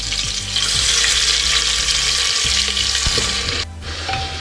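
Onion hits hot oil in a pan for mutton paya soup, giving a loud, steady sizzle with occasional stirring knocks, then the frying eases slightly near the end.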